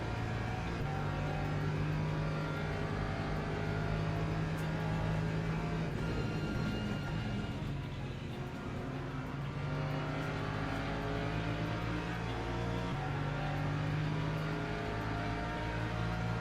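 A Porsche race car in Le Mans Ultimate at Monza drones steadily at high revs while closing on a Lamborghini to overtake, engine tone shifting slightly as it rises and holds, with other cars audible around it.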